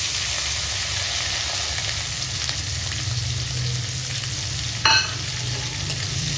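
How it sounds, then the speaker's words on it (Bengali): Chopped onions hiss and sizzle steadily in hot oil with whole spices (cinnamon, cardamom and cloves), with one brief clink of a utensil near the end and no talking. "তারপর কুচনো পেঁয়াজগুলো দিয়ে দিচ্ছি"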